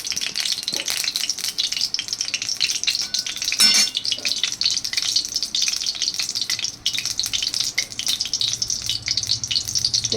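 Oil heats in a wok ahead of frying pointed gourd, giving a steady broadband sizzle that runs the whole stretch with small clinks and stirring knocks and one brief louder burst near the middle.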